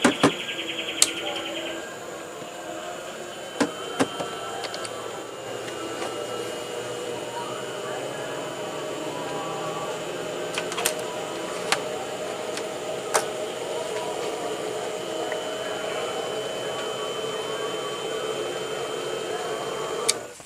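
A modified power inverter built for rice-field use runs steadily, giving a continuous electrical whine and hum throughout, with a few sharp clicks and ticks scattered over the drone.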